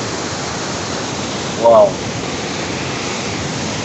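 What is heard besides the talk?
waterfall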